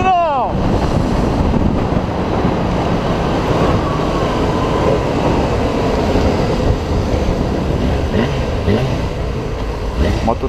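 Yamaha FZ6 motorcycle ridden through city traffic on a cold engine, a loud continuous engine drone buffeted by heavy wind noise, with a brief higher tone at the start and a voice talking over it.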